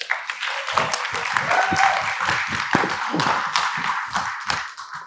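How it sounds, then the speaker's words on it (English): A conference audience at a legal business event claps to welcome a speaker, the applause building quickly, holding strong with distinct individual claps, then tapering near the end. "Give a nice big round of applause for Dan Warburton."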